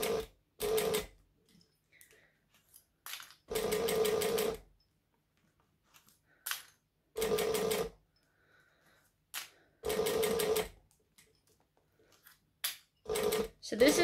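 A sewing machine stitches vinyl in short, rapid bursts of whirring stitches, several runs of about a second each, with quiet gaps and small clicks between them as the work is adjusted.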